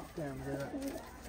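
A pigeon coos softly at close range in two short rolling phrases, heard alone.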